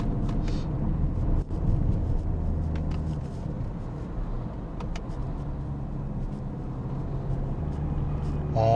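A Peugeot 2008 diesel SUV with an EAT8 automatic gearbox accelerates from inside the cabin, a low steady engine hum that rises and eases between gear shifts, with a brief bump near the start.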